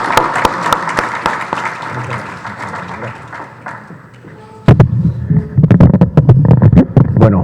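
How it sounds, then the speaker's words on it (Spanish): An audience at a forum on Chancay and APEC opportunities applauds a speaker, dense loud clapping that gradually thins, then a short lull before louder, boomy, irregular claps and handling thumps close to the microphone. "lo recibimos con un gran aplauso"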